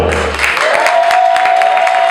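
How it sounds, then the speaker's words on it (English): A comedy club audience claps for a comedian as she is introduced, a steady wash of applause with a brief low hum at the start and a sustained tone running underneath. "they're clapping for you."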